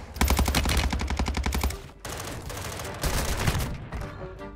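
A Doom shotgun firing in Call of Duty Warzone, loud and close, with rapid repeated blasts that give way to a second cluster of shots and fading echoes.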